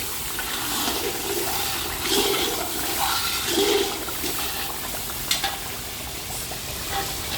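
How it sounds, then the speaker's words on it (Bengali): Beef added to a frying spice paste sizzles loudly and steadily, with bursts of hissing and stirring scrapes throughout; no voices. "এই যেমন মাংস দিয়ে দিলাম, দেখুন।"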